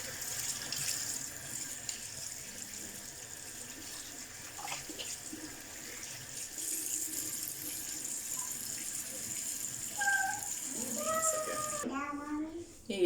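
Tap water runs steadily into a sink while a face mask is rinsed off, a continuous splashing wash with a voice speaking near the end.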